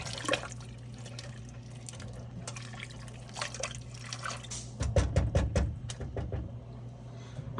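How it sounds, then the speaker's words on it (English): A spoon stirring spicy banga palm nut soup in a pot, with soft wet sloshing and a cluster of light clinks and scrapes partway through over a low steady hum. "I love my banga really spicy. So I'm gonna be stirring it."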